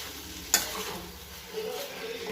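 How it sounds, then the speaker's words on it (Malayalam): Chicken roast masala stirred in a pan: one sharp clink of the spoon against the pan, then soft scraping and a faint frying sizzle, close and quiet. "നന്നായിട്ട് മിക്സ് ചെയ്യാം. നന്നായിട്ട് യോജിപ്പിച്ച് കൊടുക്കുക."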